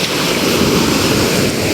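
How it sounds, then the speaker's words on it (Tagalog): Rough sea waves churn in a continuous broad wash, loud and close, mixed with gusting wind buffeting the microphone, and no voices are heard. "Galit na galit pa rin ang alon."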